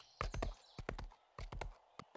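A horse's hooves clip-clop in the video game 7 Days to Die, played with a Wild West mod. The footfalls are close and irregular, coming in short clusters of sharp knocks separated by brief pauses, with no talking.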